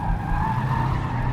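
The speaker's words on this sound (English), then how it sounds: "So you can slide it for fun in basically any gear." A Bentley Continental GT slides through a corner, its tires skidding in a loud, continuous squeal layered over a steady engine drone, close and uninterrupted.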